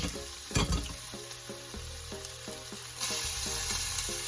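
Cabbage and onions fry in a pan while being mixed, a steady close sizzle with occasional stirring noises and the hiss swelling louder toward the end.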